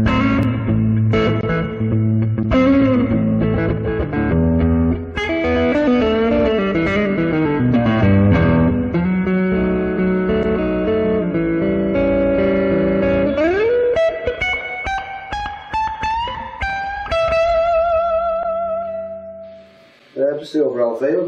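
A Cassidy UK custom-built T2 electric guitar being played, with a run of picked notes and chords showing long sustain, ending in a rising phrase and a short fade before a final strum.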